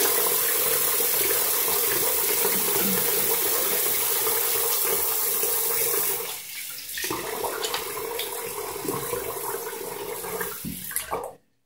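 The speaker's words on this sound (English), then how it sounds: "I'm just gonna rinse my face" Tap water runs steadily into a sink while someone rinses their face, a continuous splashing hiss that shifts midway as the hands interrupt the flow, then cuts off abruptly at the end.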